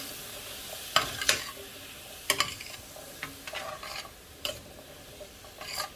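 A pot of chickpea filling for Trini doubles being stirred, a spoon scraping in irregular strokes over a quiet sizzle, with a few sharp clinks against the pot, close but fairly soft.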